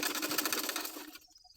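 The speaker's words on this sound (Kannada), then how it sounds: "ಕಾಜಾಪಟ್ಟಿನ ಇದ್ರ ಕೆಳಗಡೆ ಇಟ್ಟು ಸ್ಟಿಚ್ ಮಾಡ್ಕೊಳ್ಳೋಣ" A sewing machine stitches a kaja patti strip onto fabric, a steady fast whirring chatter running loud for over a second before cutting off into near silence with a couple of faint clicks.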